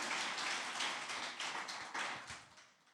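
A church congregation applauds after a sermon on Jesus's resurrection, a steady, fairly quiet wash of many hands clapping that thins out toward the end.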